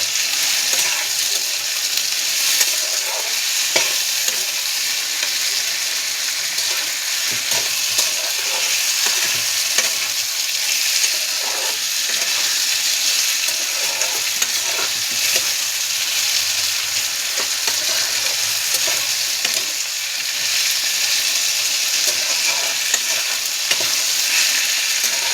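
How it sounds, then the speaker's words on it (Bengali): Fish curry spices sizzle in a hot pan as they are stirred, a constant, fairly loud frying hiss with occasional scraping of the spoon and no voices. "এই নেড়ে চেড়ে এই যে মশলার জলটা দিয়ে দেবো"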